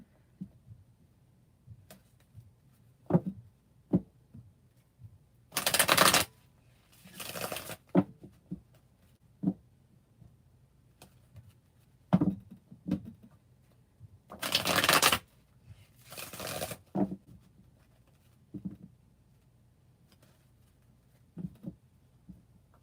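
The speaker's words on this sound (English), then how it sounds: "I'm going to pull an Oracle card" A deck of oracle cards being shuffled by hand, several loud riffling bursts in a row with quieter taps and handling noises between them, close up with no talking.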